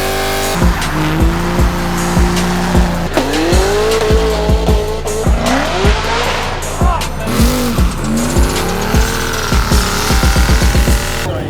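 Car tires squeal in repeated burnouts at a charity car show, with engines revving hard and howling pitch sweeps over a steady stream of loud, rhythmic roaring, close and continuous.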